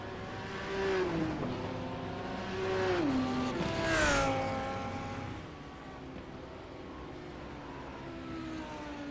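GT3 race cars at Canadian Tire Motorsports Park scream past with rising and falling engine whines, while one car spins with squealing tires, then fades to a steady engine drone.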